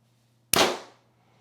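An arrow loosed from a bow during precision target shooting with match-grade arrows: one sudden sharp crack, loud and close, that rings briefly and fades within half a second, with quiet before and after and no talking.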